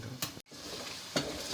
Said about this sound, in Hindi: बस अब भुनना शुरू करो तेज़ आंच पे।